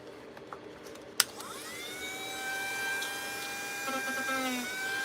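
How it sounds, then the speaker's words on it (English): A Bauer heavy duty rotary tool starts up with a sharp click and spins up to a steady high-pitched electric whine, holding a constant tone with slight pitch shifts. "I have 2 Dremel tools. I have this Bauer heavy duty."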